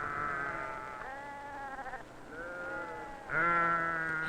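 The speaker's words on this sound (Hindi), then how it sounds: "सुबह सुबह ही हम उत्तर से आई भेड़ों से ऊन निकालना शुरू करते हैं।" Sheep brought from the north bleat during morning wool shearing by Tibetan traders, several drawn-out, wavering cries in succession, the last one louder and closer, over a faint background hum.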